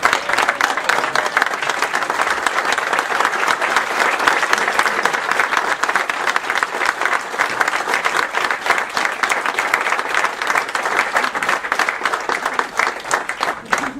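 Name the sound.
audience standing ovation, clapping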